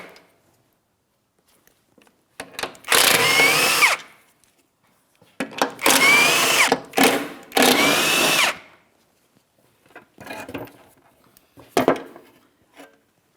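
A power tool spins out 15mm headed mounting bolts from an underbody shield on a 2007-2014 GMC Sierra 2500 HD, in three loud buzzing bursts of about one to three seconds each, followed by quieter clinks and a short final whir.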